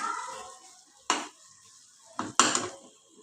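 Spices roast in oil in a pan for a fresh green pea curry, with short bursts of sizzling as the masala is stirred, three sharp flare-ups between quieter stretches.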